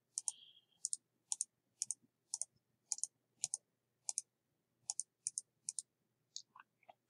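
Computer mouse clicks while tracing a selection with the GIMP lasso tool: about fifteen crisp, close clicks in an irregular sequence, some in quick pairs, over quiet background.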